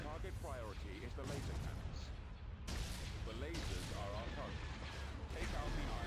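Ion cannon fire from a Star Wars space battle game at Fondor, heard as repeated heavy booming blasts under a constant din of battle effects, with people talking over it.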